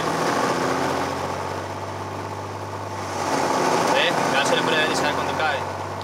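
A small aircraft engine starting and running at idle, a steady low drone with a slight swell in the second half, with cockpit sounds and faint background noise.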